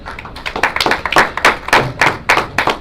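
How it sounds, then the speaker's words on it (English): A small group claps in a sparse, irregular rhythm of distinct hand claps and taps for a little under three seconds after a Torah portion reading, fairly close and with no talking. "So let's give the Most High a round of applause."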